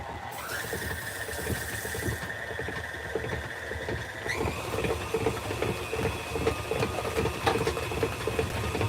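An electric hand mixer whirs steadily as it blends cheese ball ingredients, its motor pitch stepping up partway through and the churning growing a little louder and busier toward the end, with no talking.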